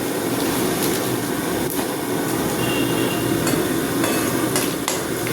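Cumin and poppy seeds frying in hot oil make a steady, dense crackle and sizzle that holds level throughout, close and fairly loud, with a few sharper pops.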